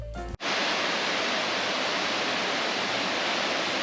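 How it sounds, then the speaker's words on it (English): Small waterfall seen from a viewpoint after a short hike, a steady, dense rush of falling water filling the scene, close and loud, after a brief muffled bump at the start, with no voices. "Here's a view of the waterfall."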